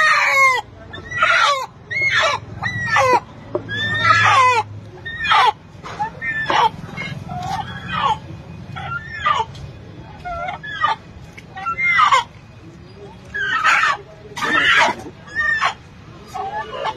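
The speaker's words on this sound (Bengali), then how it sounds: "এই মুরগিটা আমি চয়েস করলাম" Chickens cluck and squawk in loud, rapid, repeated bursts at a busy poultry market where a black hen of about one kilogram is being picked out, with people talking nearby.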